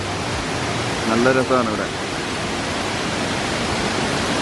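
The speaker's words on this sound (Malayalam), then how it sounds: "നല്ല ഹെവി ആയിട്ടുള്ളൊരു വെള്ളച്ചാട്ടമാണ്" A heavy waterfall in Anakulam forest roars as a steady, dense wash of rushing water, with a person briefly speaking over it.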